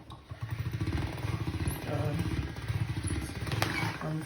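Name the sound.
pasta machine rolling homemade pasta dough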